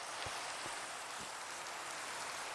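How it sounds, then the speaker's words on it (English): Steady, soft rain hisses evenly throughout in a Minecraft modpack world, a quiet wash of falling water with a few faint low thumps and no talking. "Why is it raining?"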